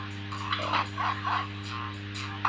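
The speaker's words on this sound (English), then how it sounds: "There's even dogs!" Dogs in an old DOS shareware shooter video game, giving a few faint, tinny barks and yips over a steady low electronic hum, with no voices.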